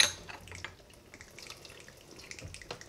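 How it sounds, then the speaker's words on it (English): Hot water poured over Yixing clay teaware for a rinse gives soft, close splashing and trickling with scattered small drips, quiet and brief, without any voices. "we're going to do a rinse now. Yeah. So that will further heat up the teaware."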